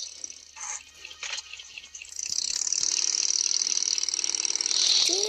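Petrol is poured into a vehicle in the shooting game PUBG: a ratcheting clicks in short bursts, then a steady rising fuel-flow hiss runs to the end, with no talking.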